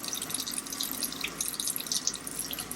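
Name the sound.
warm tap water running over AC filter in sink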